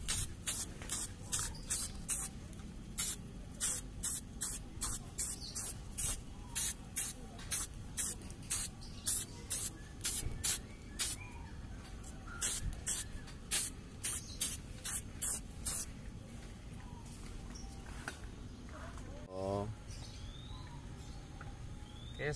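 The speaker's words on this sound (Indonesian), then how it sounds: "Semprot dulu biar kelihatan" An aerosol spray can sprays onto an engine during a timing belt job on a Suzuki Katana, Karimun or Carry. The spray comes in a long run of short, sharp hissing bursts, then stops.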